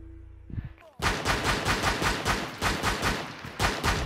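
Rapid automatic gunfire in Rainbow Six Siege, a dense run of loud close shots from about one second onward after a brief voice and a low tone at the start.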